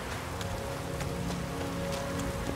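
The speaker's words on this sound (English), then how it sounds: "Raining, wow" Steady rain patters down continuously in the video game The Witcher 3, in Skellige, with scattered louder drops tapping on a surface throughout.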